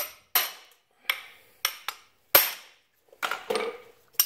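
Sharp metallic hammer blows strike a socket to drive a trailer wheel bearing out of its hub, roughly eight close, loud hits spaced irregularly with short silences between, no voices.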